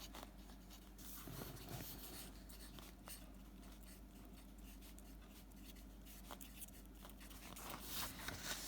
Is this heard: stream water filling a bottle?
no